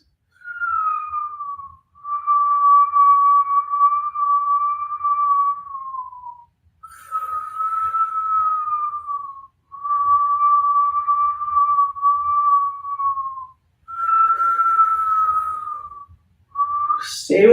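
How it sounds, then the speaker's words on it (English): Whistling breaths during a Kundalini yoga breathing exercise: five or six long, steady, high whistled tones, each held several seconds and separated by short pauses, close and clear over quiet. "Stay with your whistle breath."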